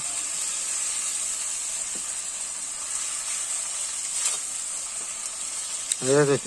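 Meat fries in a pot over a clay stove fired with dung cakes, with ginger added, making a continuous hissing sizzle and a few faint clinks, and a brief sound near the end.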